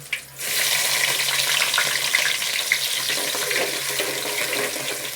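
Small onions and green chillies with curry leaves fry in oil for a fish curry, making a loud, continuous close-up sizzle that starts abruptly and carries on steadily without talk.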